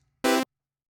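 A single short, bright buzzy sawtooth-wave tone from a Kurzweil K2700 synthesizer, rich in harmonics, lasting about a quarter second, then silence.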